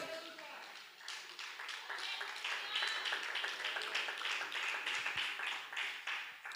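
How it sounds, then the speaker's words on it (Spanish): A church congregation claps during a service, a fairly quiet, loosely rhythmic patter of hands with individual claps audible, while voices carry on underneath. "dar un aplauso a Jesús"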